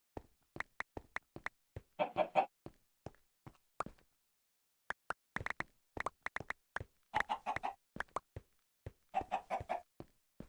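Chickens cluck in short bursts in the Minecraft video game, with sharp clicking taps scattered between the clucks over quiet gaps.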